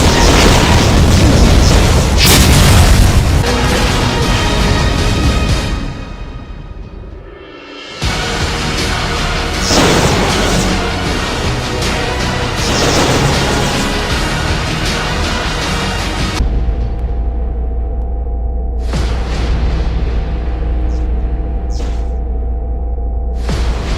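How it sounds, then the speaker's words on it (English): Huge BFG blasts in a Doom mod, booming one after another amid a chaotic fight with Cyberdemons: loud, dense explosions and rumbling bursts with a brief dip before the roar resumes, then a steady low hum under later bursts. "True legendary BFG shots."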